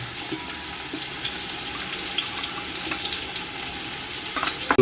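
Chopped onion fries in hot oil for tempering while a Malvani-style alu dish is cooked, giving a continuous close crackling sizzle that stays even throughout.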